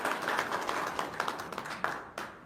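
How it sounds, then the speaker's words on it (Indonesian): Hands clapping from a small group at an indoor testimonial gathering, a steady, fairly dense patter of claps at moderate level with no talking over it. "Tepuk tangan dulu dong"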